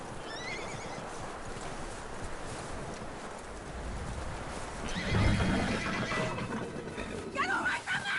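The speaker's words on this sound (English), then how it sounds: "That looks like a decent horse. You should keep him." A horse in the Western video game Red Dead Redemption 2 whinnies loudly near the end, following a stretch of low ambient outdoor rumble and soft hoof shuffling, with a snort and a second rising neigh close by.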